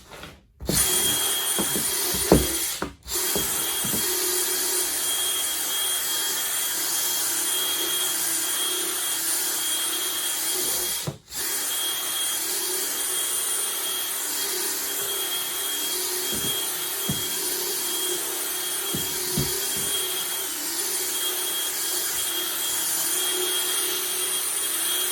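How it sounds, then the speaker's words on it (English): A power drill with a brush attachment whirs continuously at a steady pitch while scrubbing carpet, stopping briefly a couple of times, with soft scrubbing and knocking sounds underneath. "I'm going to just use a drill brush and get all this loose crap out of this carpet."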